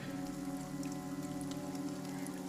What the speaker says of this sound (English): As the rain outside whispered its secrets